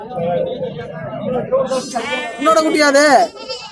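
Goat kids bleat loudly at a busy Monday livestock market in Kunnathur near Tirupur, with several wavering cries stacked close together over a continuous murmur of people talking nearby.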